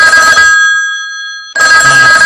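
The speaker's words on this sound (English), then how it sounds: "That's that old ringtone." An old-style telephone bell rings loud and close in two bursts with a clear gap of near silence between them.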